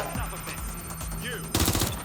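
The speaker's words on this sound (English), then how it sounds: "I've got an MP5 and it started with a pistol." A short automatic burst from an MP5 submachine gun in the video game Watch Dogs Legion, rapid evenly spaced shots near the end after quieter game ambience.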